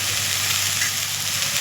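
Milk hits a hot pan with a loud, close, continuous sizzle, a steady bright hiss that holds evenly through the short moment with no voices.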